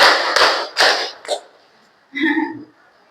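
A group of people clap hands in a counted pattern, three sharp claps followed by a pause, then a fourth lighter clap and a short burst of voices.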